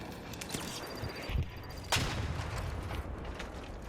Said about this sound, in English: I like to stun him with the showstopper and then hit him with 3 trigger grenades.